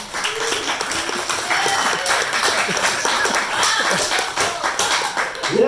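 A comedy club crowd claps steadily in a dense, lively patter that swells slightly and holds for several seconds, with a little murmuring underneath.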